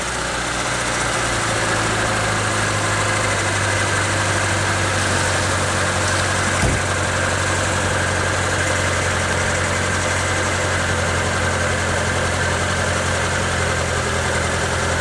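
A Mitsubishi Pajero 2 off-road vehicle on snow chains struggles forward, its engine a loud, steady low drone with constant vibration and no break, and one brief knock partway through.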